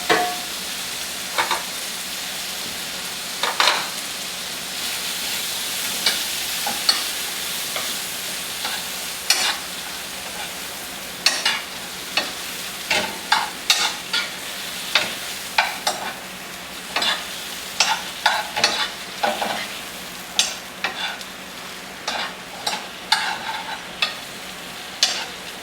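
Butter sizzles in a frying pan where shrimp is cooking, a soft continuous hiss punctuated by many sharp clicks and scrapes of a utensil against the pan.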